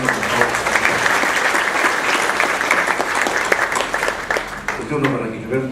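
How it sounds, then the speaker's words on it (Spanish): Audience at a panel discussion on social responsibility claps steadily and fairly loudly for a presenter. The applause thins toward the end as a voice begins speaking over it. "Un aplauso, por favor."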